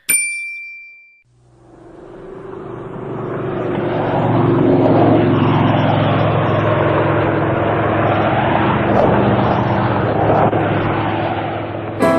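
A propeller airplane engine drones steadily and loudly, swelling as it passes close by, after a brief chime at the start.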